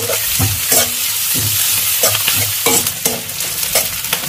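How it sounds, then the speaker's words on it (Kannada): Green chillies and onions frying in a pan are stirred with a utensil, giving a steady sizzle broken by repeated scraping strokes roughly every half second, loud and close, with no one talking. "ఇప్పుడు అన్ని ఒకసారి మిక్స్ చేసుకోవాలి."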